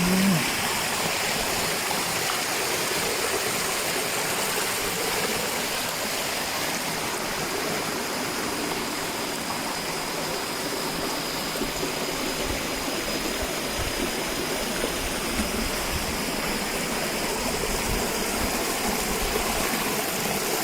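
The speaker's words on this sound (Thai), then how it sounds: "ดู ครับน้ำตกจรวด ครับ ผม ไหลค่อยๆครับ จากด้าน บนสู่ด้านล่าง" Rocket Waterfall (Nam Tok Chorat), a small waterfall in Thailand, pours steadily from top to bottom, a constant loud rushing wash of water with no talk.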